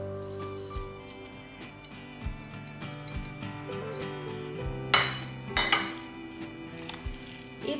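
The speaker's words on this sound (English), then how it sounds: "Now I'm going to add the onions in here as well." Chopped onions go into a pot of marinated lamb, giving scattered clinks and clanks of metal cookware and utensils, with a few sharper knocks near the end, close by and without speech.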